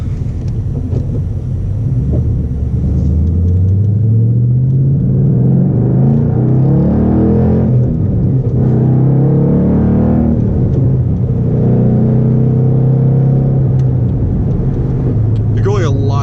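A 2012 Ford Mustang Boss 302 V8 accelerates with a steady, loud engine rumble whose pitch climbs through rising sweeps as it gains speed, heard from inside the car with someone talking over it throughout.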